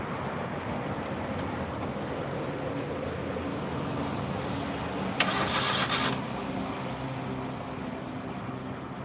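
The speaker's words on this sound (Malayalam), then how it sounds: "ഒന്ന് സ്റ്റാർട്ടാക്കി വെക്കാം" A vehicle engine is cranked to start amid a steady broadband rumble, with a brief louder burst of cranking or catching partway through before the steady noise resumes; no talk.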